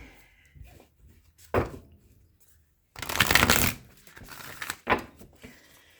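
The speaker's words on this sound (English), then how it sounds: "Let me shuffle really quick." Cards are shuffled in a few quick riffles, with one longer, louder riffle in the middle and soft handling sounds between.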